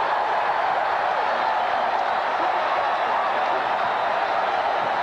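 A sellout crowd at the Forum roars steadily through a 1986 Lakers–Mavericks playoff basketball game, a dense, unbroken wash of distant cheering and chatter that never breaks.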